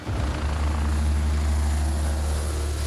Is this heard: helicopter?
yes